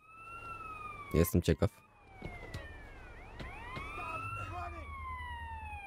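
Police siren wails in the video game GTA San Andreas Definitive Edition, a steady rising and falling tone sweeping through the scene, moderately loud, with a few sharp thuds and a brief spoken phrase in between.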